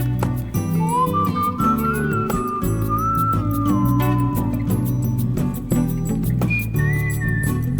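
A whistled melody in a song from an album rises clearly over a full band with guitar and drums, with the tune sliding between held notes throughout.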